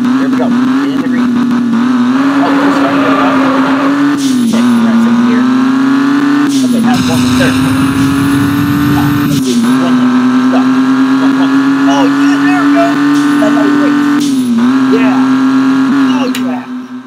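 Race car engine revving hard and holding high pitch through several gear shifts in the mobile game Drag Racing Rivals, loud and continuous with brief dips between shifts.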